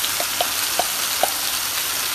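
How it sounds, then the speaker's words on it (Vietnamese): Minced garlic, about a tablespoon, fries in hot oil in a home kitchen, a steady soft sizzle with a few sharp pops and spatters standing out near the mic; no talk. "Nhưng mà mình cho vô đây khoảng một muỗng canh tỏi xay á các bạn"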